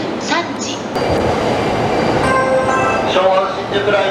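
A train rumbles into platform 1 at a Tokyo station with a steady roar and faint rail clatter, while a Japanese public-address announcement speaks over it.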